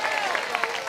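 A church congregation claps briefly during a Spanish-language service, a short dense burst of applause with a few louder claps.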